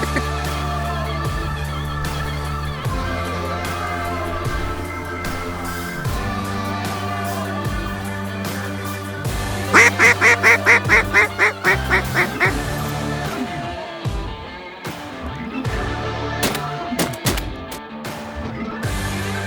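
Flock of snow geese calling in Arkansas, many honking calls overlapping, mixed in with music and a burst of rhythmic repeated calls in the middle, fairly loud and close.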